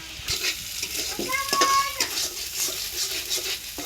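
Noodles being stir-fried in a pan with salt and turmeric: ongoing soft sizzle with scraping stirs and a clank near the middle, close by, with voices talking faintly under it.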